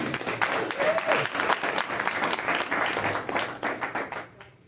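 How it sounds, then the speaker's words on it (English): Audience applause at a comedy night, a dense wash of clapping that carries steadily for about four seconds before fading quickly into quiet. "One more round of applause for Chuck D."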